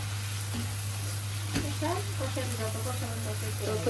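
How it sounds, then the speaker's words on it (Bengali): Bitter gourd and fish curry with kajli fish being sautéed in a pan, a steady close sizzle and frying hiss under a low constant hum, with a brief scrape of stirring and a voice speaking over it. "আর একটু কষাবো"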